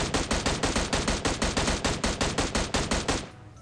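Automatic rifle fire in PUBG Mobile while downing an enemy, one long rapid burst of evenly spaced loud shots lasting about three seconds before cutting off.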